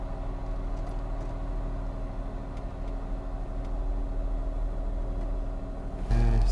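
Ford Escape cruising on the road, a steady low engine and tire rumble heard from inside the cabin with faint clicks, ending in a sudden louder thump, no voices.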